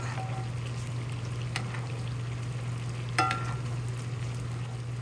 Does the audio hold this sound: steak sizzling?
yes